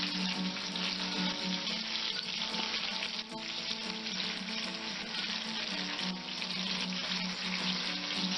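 Bluegill fish frying in hot oil, a dense, steady sizzle and crackle that fills the whole clip at close range, with no voices.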